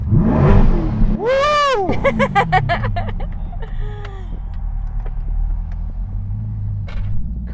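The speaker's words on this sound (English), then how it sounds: "Car sounds incredible." A Chevrolet C8 Corvette engine revs up hard in two strong rising-and-falling bursts near the start, followed by a lower idle rumble and a smaller blip, with a person's excited shout over it.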